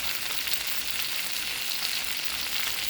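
Steak frying in a pan with butter and garlic, a steady bright sizzle and crackle of hot fat, close and continuous with no voices.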